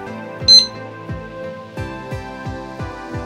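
A kitchen timer rings with a repeating electronic chime tune, steady and fairly loud, each note pulsing at a quick regular pace.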